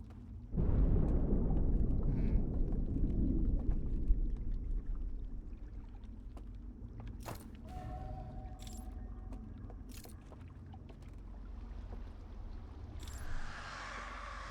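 Outer Wilds video game sound of beings dying and being erased: a low, rumbling wash that fades into eerie, sparse crackles and thin tonal streaks, with brief bright bursts near the end, fairly quiet throughout.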